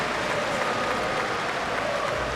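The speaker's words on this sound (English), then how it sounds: "he looks and applauds the French fans" Crowd applause at a Eurobasket basketball game between Spain and France, a dense wash of clapping from a large arena audience, steady and fairly faint, with no pauses.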